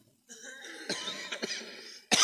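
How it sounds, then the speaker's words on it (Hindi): Coughing fits from someone breathing the fumes of eggs frying at a street food stall, a few harsh close coughs and throat clearing at a steady level, then a sharper loud burst at the end. "सांस ले रहे हैं तो खांसी उठ जा रही है।"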